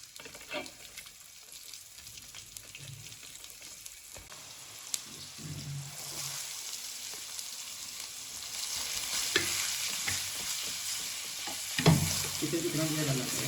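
Onions frying in oil, a soft crackling sizzle that grows louder and denser over the stretch, with a few clinks of a utensil against the pan.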